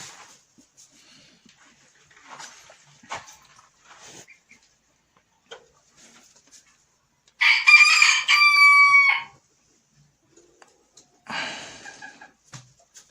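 An ispenç rooster crows loudly once with harmonic calls, surrounded by scattered soft clucks and rustling, with a burst of hen cackling near the end.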